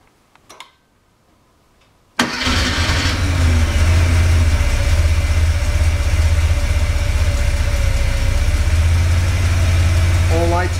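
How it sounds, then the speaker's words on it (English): After a few faint clicks, a car engine cranks and catches during an ignition distributor trigger test with a CDI test tool, then settles into a steady, close, continuous idle with a light ticking rhythm. "we're going to start the engine to check the trigger"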